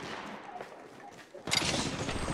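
Gunfire in the mobile shooter Apex Legends Mobile: a quiet stretch of faint game noise, then a sudden, louder sustained burst of rapid shots that runs to the end.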